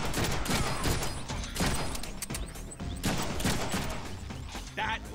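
Dense gunfire in the Deadpool video game, a busy fusillade of rapid shots and mechanical clatter layered over one another, loud and continuous throughout.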